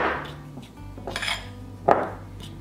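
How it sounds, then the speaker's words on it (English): A spoon knocking and scraping in a bowl while self-rising flour and Greek yogurt are stirred into pizza dough, a few scattered clinks and scrapes, close and fairly quiet, with no voices. "And then you're gonna just stir the two of these together"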